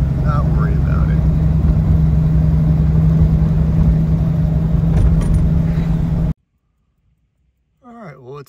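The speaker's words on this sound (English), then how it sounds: "Always impresses me when a big old car like this can just motor up the hill and not worry about it." A 1933 Lincoln KB V-12 Judkins coupe motors up a steep hill with a loud, steady, low engine drone for several seconds, then cuts to silence before a voice briefly speaks.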